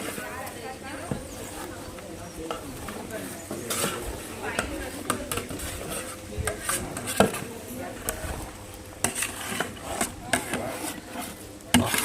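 Large pot of 12 kg mutton curry with ginger being stirred, giving irregular scraping and clattering knocks of a utensil against the pot, with people talking in the background.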